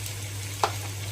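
Onion frying in a pan for a chutney gives a soft, steady sizzle close up, broken by a single brief clack of a utensil midway through, with a low steady hum underneath.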